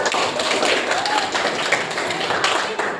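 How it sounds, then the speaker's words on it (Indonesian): A class of schoolchildren clapping for a group about to present, a quick burst of many hands patting with some taps and thumps, with faint voices mixed in. "Kita tepuk tangan buat kelompok 4."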